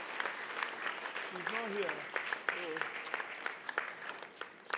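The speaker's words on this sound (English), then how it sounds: "Please, let's give her another resounding round of applause." An audience at a wealth-building seminar gives a round of applause, moderate steady clapping heard somewhat distant, with a person speaking briefly over it.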